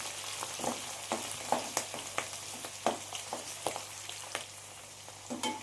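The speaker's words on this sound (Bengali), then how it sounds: "শিম আর কুঁদরিটাকে আমি একসাথেই ভেজে নিচ্ছি" Flat beans and ivy gourd fry together in oil for undhiyu, a steady close sizzle broken by a run of sharp spatula clicks and scrapes against the pan.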